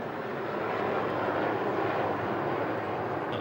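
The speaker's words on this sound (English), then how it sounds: "Helicopter passing overhead causes a flurry of seagulls" A helicopter passing overhead at a cricket ground during a Sheffield Shield match: a steady, broad rotor and engine roar held throughout, moderately distant and even in level, with no talk.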